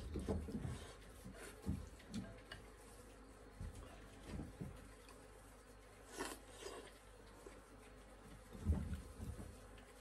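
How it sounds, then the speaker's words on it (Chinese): Honeybees buzz around hives at a rural apiary, a faint steady hum with intermittent closer passes of individual bees and small handling knocks. "灯一开起来蜜蜂全部都出来"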